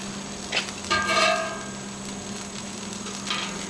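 A birria taco tortilla sizzles and fries steadily in a pan. A couple of brief soft clatters come as it is flipped, and the frying hiss carries on close by underneath.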